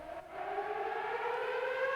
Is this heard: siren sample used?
yes